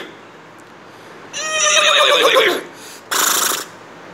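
A voice imitates a horse neighing, a loud close whinny with a quavering falling pitch, then a short sharp burst, with quiet before and a brief gap between.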